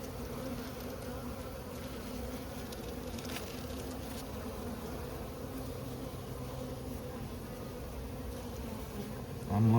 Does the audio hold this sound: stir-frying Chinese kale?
no